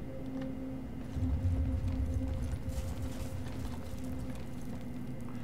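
Horse hooves clip-clopping in the video game Brothers in Arms: Hell's Highway, a soft rhythmic clatter that picks up partway through over a low game ambience hum.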